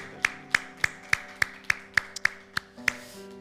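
A church congregation claps during a worship service, about eleven crisp, evenly spaced claps in a steady rhythm over sustained keyboard or organ tones, with no talking.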